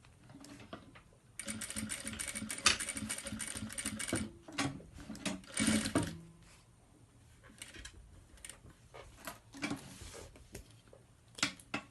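A domestic sewing machine stitches a round fabric bag in several bursts of rapid mechanical chatter. Short pauses and handling clicks separate the runs, and it finishes with a brief backstitch pass, close by and with no talking.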